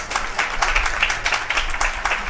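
A round of applause for a college's men's and women's bowling teams at a campus celebration, steady clapping from a seated crowd lasting a couple of seconds, moderately loud, with no talk over it.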